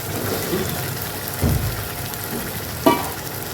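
Potatoes tipped into sizzling spiced oil masala, a steady close frying hiss with a thump as they drop in and a brief clatter toward the end.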